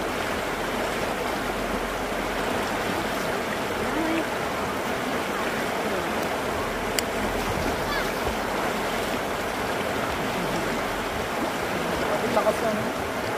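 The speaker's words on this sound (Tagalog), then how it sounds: "Malakas ang agos." A strong, cold river current rushes continuously and loudly nearby, a steady broadband wash of flowing water that stays even throughout with no break.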